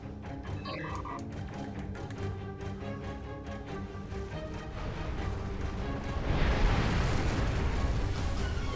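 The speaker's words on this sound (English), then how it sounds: "I'm waiting for the torpedo ability to take hold." Torpedo ability blasts in Star Trek Online rumble beneath a steady musical backdrop, the booming explosions swelling and growing louder and denser toward the end.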